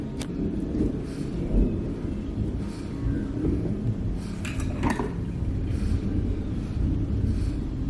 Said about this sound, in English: That is a very big thunder.